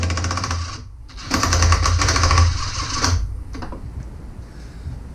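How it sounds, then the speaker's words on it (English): A DeWalt impact driver works a 5/16 bolt loose on a Jeep TJ, giving a loud buzzing, hammering rattle in two or three bursts that stop and start, then fading to quieter mechanical noise. "this is a really good use for my DeWalt impact driver"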